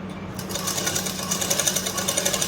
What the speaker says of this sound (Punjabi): ਇਹ ਆਪਾਂ ਨੇ ਸਿੱਧੀ ਸੀਨ ਇੱਕ ਵਾਰ ਦੀ ਲਗਾ ਕੇ ਆਪਾਂ ਇੱਧਰ ਤੱਕ ਲੈ ਆਏ